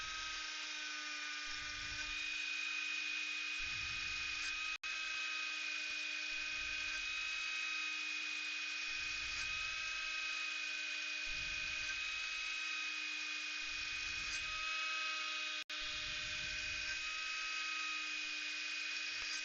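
Metal being cut on a milling machine with the spindle rotation set too fast, giving a loud, steady high-pitched whine with sustained tonal lines and a regular pulsing rumble underneath, with no talk over it.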